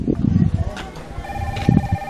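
A mobile phone rings with a steady electronic ringtone in a comedic skit, the repeating tone sounding close and clear while people talk loudly over it.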